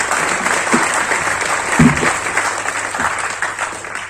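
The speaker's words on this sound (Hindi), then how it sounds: "एक बार अपने आप प्रदर्शन के लिए जोरदार तालियों से स्वागत कीजिए" An audience at a youth parliament event in New Delhi applauds, a steady, dense patter of many hands clapping together, close and sustained throughout.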